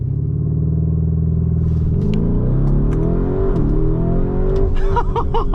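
A 2023 Lamborghini Urus S builds revs on launch control, then surges forward hard in a loud, rising engine roar with rapid gear changes, heard close from inside the cabin.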